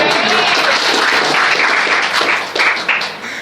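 An audience at a Gujarati literary talk at a library in Nadiad breaks into applause, a dense burst of many hands clapping that holds steady and then thins out toward the end.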